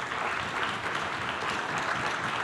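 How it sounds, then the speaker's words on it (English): An audience at a city State of the City address applauds, a dense continuous wash of many hands clapping at moderate distance, steady for the whole stretch with no talk over it. "deserve the hugest round of applause"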